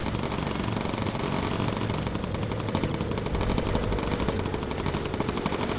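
Aircraft gunners in the Bomber Crew video game fire incendiary rounds, a dense, continuous rattle of rapid machine-gun bursts held at a steady loud level under a constant engine drone, with no pauses throughout.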